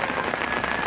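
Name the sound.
rain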